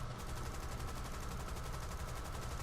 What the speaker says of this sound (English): I guess I'll just use my single machine gun to do something.